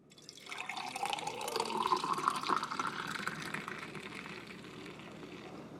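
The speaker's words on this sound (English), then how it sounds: "Let's pour the coffee here." Coffee poured from a pot into a measuring cup, a steady liquid stream whose pitch rises as the cup fills, close and fairly loud, with no talking.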